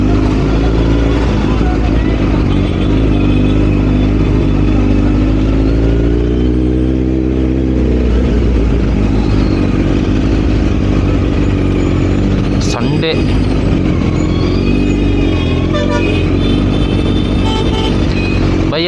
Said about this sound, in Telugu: భయ్యా ఈరోజు హెవీ ట్రాఫిక్ ఉందో